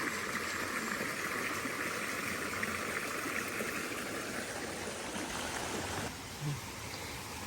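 A steady broadband rush of a mountain stream and waterfall carries on throughout at a moderate distance, with a small thump near the end.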